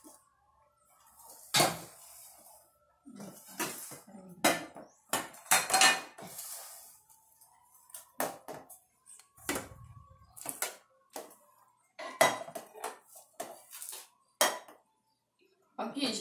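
Brinox nonstick ceramic pots, pans and lids clink and clatter in irregular bursts, with metallic knocks and scrapes separated by quiet gaps.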